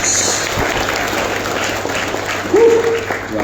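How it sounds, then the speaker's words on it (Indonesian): A church congregation breaks into sustained applause and cheering for Jesus, a dense steady wash of clapping filling the room, with a brief sung or shouted voice rising near the end. "Tepuk tangan dulu buat Yesus."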